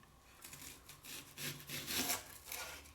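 A knife slices an onion into rings on a board, making a few soft, close cutting strokes that swell and fade, quiet and alone with no talk.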